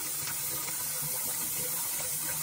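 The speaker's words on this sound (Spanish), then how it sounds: "dejamos que corra el agua para ver si no hay un liqueo" Water runs steadily from a newly installed kitchen faucet, with a constant close hiss and splash into the sink under a garbage disposal setup, and no talking.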